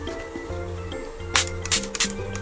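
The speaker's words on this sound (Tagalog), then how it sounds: "i-spray natin ito" Hairspray sprayed onto freshly curled hair: three short hissing bursts in quick succession near the end, following a quieter stretch with a steady background hum and music.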